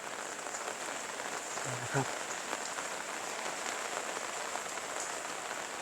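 Steady rain falls on surfaces in a continuous soft hiss on an overcast morning, fairly quiet and even, with a brief spoken phrase near the middle.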